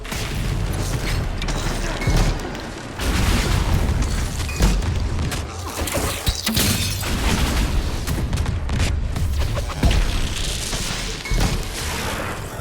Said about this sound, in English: I'm going to make it explode